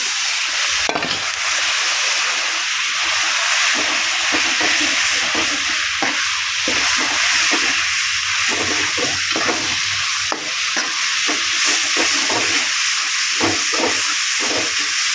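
Ground curry leaf pickle paste sautés in oil with a constant loud sizzle and hiss, punctuated by repeated scraping stir strokes of a spoon against the pan, close and continuous with no talking.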